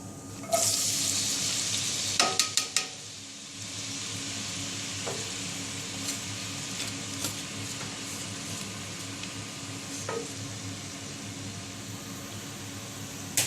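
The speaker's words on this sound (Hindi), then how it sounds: "तो अब हम इसके में सबसे पहले प्याज डालेंगे।" Onions drop into hot oil in a kadai, setting off a loud, steady frying sizzle and hiss close by, with a few clinks of stirring early on and no talk over it.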